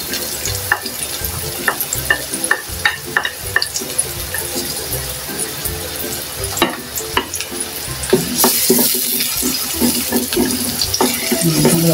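Garlic and onion sauté in hot oil, with a continuous close sizzle under repeated scraping stirs of a utensil against the pan. The hiss swells louder toward the end.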